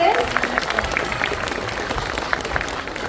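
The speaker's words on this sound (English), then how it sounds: "Once again, a big round of applause for all the classes." Applause for the school classes at a thematic assembly of an Indian international school in Dubai, a steady crowd clapping that fills the whole stretch, with voices mixed into it.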